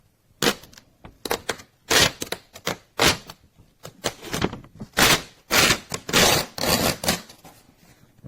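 Paper from a Phomemo M834 portable A4 thermal printer is torn off in a series of short, sharp ripping bursts, close and loud, repeated in uneven rhythm with brief pauses between, no talk.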